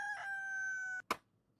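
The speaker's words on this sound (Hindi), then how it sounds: "भाई कभी कभी मेरा दिल चाहता है इस मुर्गे को मैं पहले ज्यादा बुलवा लूं" A rooster gives one loud, close, sustained crow that ends abruptly, followed by a brief sharp knock and then quiet.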